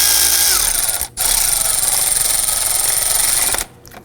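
A power tool whirs steadily while snugging bolts on the crankshaft vibration damper of a 2005-2009 Subaru Legacy 2.5L, close and loud, cutting out briefly about a second in and stopping near the end.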